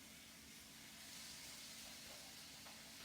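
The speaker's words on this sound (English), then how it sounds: "can you hear it sizzling?" Zucchini and eggplant sizzling in a pan in a home kitchen, a steady close hiss of frying that holds evenly throughout without pause.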